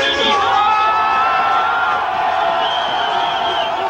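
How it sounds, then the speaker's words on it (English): A crowd at a reggae dance roars approval for a DJ's tune, a dense sustained mass of cheering and whooping voices that fills the space without a break. "When the DJ plays a killer tune, the crowd lets him know with a roar of approval"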